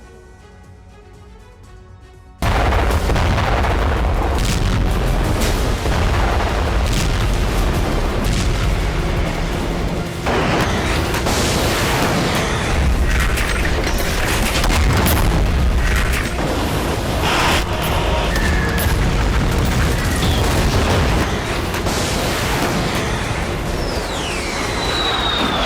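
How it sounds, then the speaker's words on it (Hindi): Artillery fire and explosions from the Russia-Ukraine war boom densely for more than twenty seconds, loud and continuous after a quieter opening, with blasts overlapping into one heavy, rumbling wash. "एक इंच जमीन के लिए 100 धमाके।"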